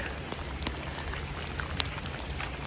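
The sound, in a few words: rain falling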